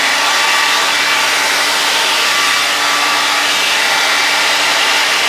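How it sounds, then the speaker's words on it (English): Hair dryer blowing at close range while drying hair, a loud, steady continuous whooshing roar with a faint motor whine, unbroken for the whole stretch. "I'm just blow dry one more time"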